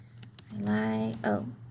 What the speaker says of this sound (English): You click in the white box, you start typing.